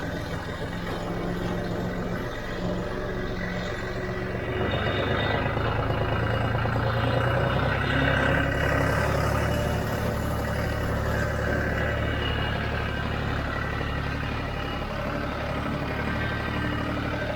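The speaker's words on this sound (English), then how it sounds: "I'll just take you along until I park the tractor." A John Deere tractor engine drones steadily while driving on a farm, a low, continuous rumble with slight swells in pitch and loudness, close and unbroken, with no speech.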